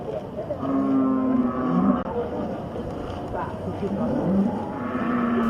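Sacrificial cattle, weighing up to 1.1 tons, moo loudly at the Dharma Jaya slaughterhouse in Cakung, Jakarta, with several long lowing calls over a steady bustle of background noise and faint murmuring.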